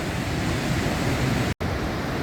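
Rushing water pours down toward a waterfall at Yellowstone National Park, a dense, steady roar heard up close that cuts out briefly near the end.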